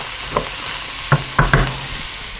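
Bell pepper stirred in a pot for Manhattan clam chowder, with a few distinct scrapes and knocks of the utensil over a soft background sizzle, spaced unevenly and heard up close with no talking.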